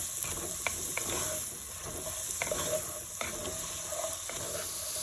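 Onion and garlic sautéing in a pan for Sicilian pork loin with a steady close sizzle, broken by light utensil taps and scraping stirs at intervals, no speech.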